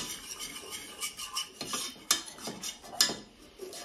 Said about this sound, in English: So just whisk that.